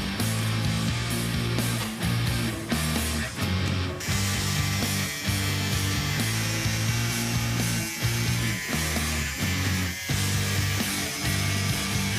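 Steel car chassis being cut and ground in a custom shop: a continuous loud, harsh grinding and cutting drone that shifts in pitch and pressure, with brief dips between passes.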